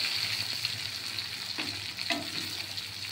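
Potatoes frying in hot oil in a pan for a Bengali pomfret fish jhal, giving a steady, close sizzle with a couple of soft stirring scrapes and no talk.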